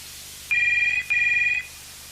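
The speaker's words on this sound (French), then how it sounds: "Téléphone. Vous ne décrochez pas?" A telephone rings twice in an interior, each electronic trill lasting about half a second, loud and close, separated by a short gap and followed by quiet.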